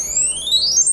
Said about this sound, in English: got an audio alarm and LED lights